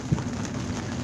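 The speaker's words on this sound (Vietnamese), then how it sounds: "Ôi mưa nó giảm rồi." Steady rain falling outdoors during a fishing trip, a dense even hiss with a close patter of drops, no voices.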